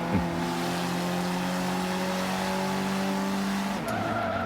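A front-wheel-drive Mazdaspeed 3 hatchback races in Forza Motorsport 5, its engine holding a steady, loud drone that shifts pitch near the end, with a short tire squeal toward the close.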